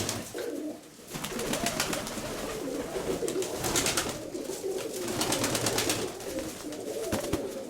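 Several pigeons coo continuously in a loft, overlapping low throaty calls with sharp wing flaps and scuffling scattered throughout, fairly close.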